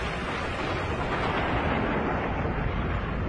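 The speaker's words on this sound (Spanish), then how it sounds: "La explosión es de tipo supernova." A dense, roaring rumble stands in for a supernova explosion in a space documentary, a loud continuous wash of broad noise that holds steady for several seconds without any voices.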